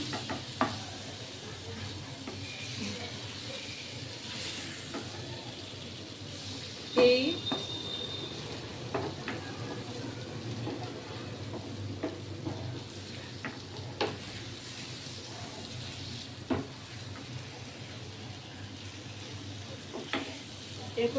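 Paneer tikka pieces sizzle on a hot flat tawa, a steady frying hiss running throughout with occasional scrapes and taps of a utensil, while someone speaks over it.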